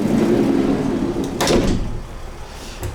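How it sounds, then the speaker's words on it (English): The sliding side door of a 2019 Mercedes-Benz Sprinter 4x4 van rolls along its track and slams shut with one sharp, close metallic bang, followed by a brief rattle. "And you got a sliding door here."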